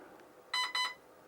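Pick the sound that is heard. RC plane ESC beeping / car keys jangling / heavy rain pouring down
RC plane ESC beeping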